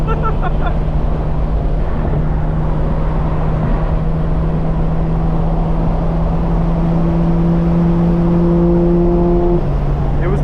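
A 900hp 2025 BMW M4 Competition xDrive accelerates hard with a loud, steady drone from inside the cabin, holding a rising engine note before a gear change near the end. Road and wind noise sit underneath.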